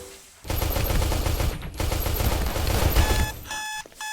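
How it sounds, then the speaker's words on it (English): Enforcer gunshots sprayed down a hall in SS14, heard as a rapid continuous burst of close, loud shots that cuts off into a few beeping alarm tones at the end. "Enforcer shots being just sprayed down the hall."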